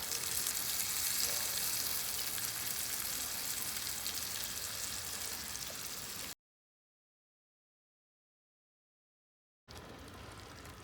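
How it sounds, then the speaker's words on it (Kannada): Ground coconut masala sizzles steadily in a hot pan for egg curry, a loud continuous frying hiss that runs alone for about six seconds, cuts to silence, then returns. "ತೆಂಗಿನಕಾಯಿ ಮಸಾಲೆ ರುಬ್ಬಿರುವಂಥದ್ದು ಹಾಕ್ಕೊಳ್ತೀನಿ."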